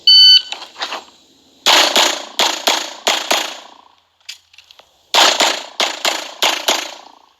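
Glock 45 pistol fired in a USPSA match: two loud strings of sharp shots close by, about five in the first burst and five in the second, with short uneven gaps, followed by a quiet pause and a few faint clicks between strings.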